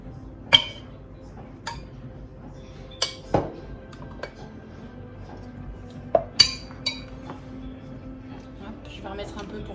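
Utensil clinking against a bowl while a runny mixture is stirred, with scattered sharp clinks and taps spread across the stretch over a quiet room background.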